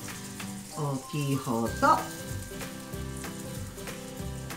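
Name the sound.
new onion steaks frying in a pan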